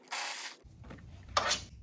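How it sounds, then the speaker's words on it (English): A ratchet works on bolts holding engine coil packs in a BMW E46 engine bay, with short close bursts of ratcheting and clicking separated by a pause. "Unbolt the coil packs."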